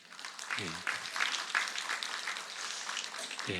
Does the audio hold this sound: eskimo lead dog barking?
no